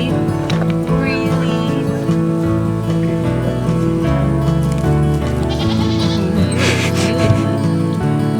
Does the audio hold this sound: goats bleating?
yes